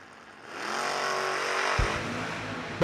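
At a drag strip, a Mustang and a drop top Falcon launch off the line, engines revving up from a low rumble into a loud rising roar, with a sharp burst of noise near the end.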